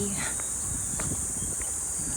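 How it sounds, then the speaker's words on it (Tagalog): Loud crickets chirp outdoors in a grassy area in Quezon City, Manila, a steady high continuous trill throughout, with faint footsteps and rustling underneath. "Lakas ng mga kuliglig."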